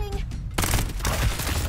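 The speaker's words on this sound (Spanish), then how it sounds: "Ay, disparos." Rapid gunfire bursts in the shooter video game Farlight 84, a sharp volley opening loud after a brief quiet moment and continuing as dense repeated shots.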